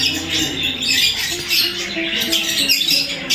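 Zoo birds, including Australian birds and African lovebirds, squawk and chatter continuously in a loud, dense chorus of overlapping harsh calls close by.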